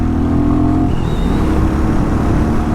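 Royal Enfield Hunter 350 motorcycle engine revving loudly and steadily up close, a continuous droning roar with a brief higher whine partway through, no voices.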